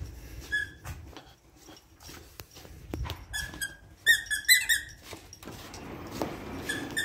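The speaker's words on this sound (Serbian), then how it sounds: "Evo i vrata su poludela, da vidite kako vrata vrište." A door squeaks and squeals in a run of sharp, high, close-up creaks, clustered in the middle of the clip amid light handling noise.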